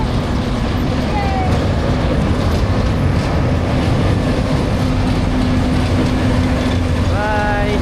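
A train passes near a river route to Shifen Waterfall in Taiwan, a steady loud rumble of rail cars with mechanical clatter and a screech near the end, with a voice talking over it.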